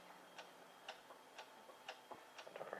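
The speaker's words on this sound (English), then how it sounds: "What is that mysterious ticking noise?" Steady clock-like ticking, evenly spaced about twice per second, faint and close in a quiet room, with a few softer clicks between beats toward the end.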